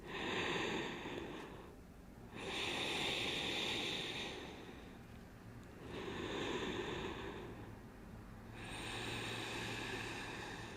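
Slow, deep breathing during a pilates class exercise, close and fairly soft. About four long, airy breath cycles rise and fall in a steady rhythm, with no talking.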